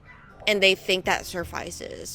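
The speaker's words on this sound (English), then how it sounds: "So now you just hear dogs barking all the time," Dogs bark in neighbouring backyards, a few short yips and barks mixed under a person talking close to the microphone.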